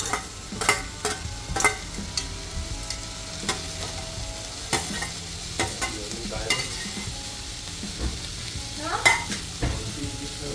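Capsicum and beetroot sizzle softly in a pan while a spoon repeatedly scrapes and stirs them, giving irregular clattering strokes over a low, continuous frying hiss.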